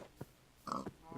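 A pig in the Minecraft Better Than Wolves mod grunts in a few short, faint bursts.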